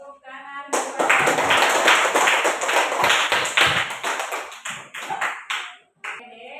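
A classroom of students claps hands in a dense burst of applause that lasts several seconds. It thins into scattered claps near the end, and voices are heard faintly beneath it.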